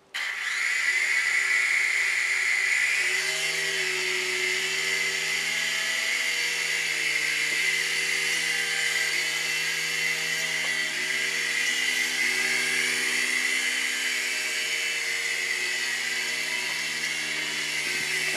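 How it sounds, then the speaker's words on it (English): A Litehawk 6996 Collector's Edition RC helicopter whines steadily as its small rotor motor spins up after a brief start and holds a high, even buzz, close and continuous for the full stretch without talk. "welcome to the flight review portion of the Litehawk 6996 Collector's Edition"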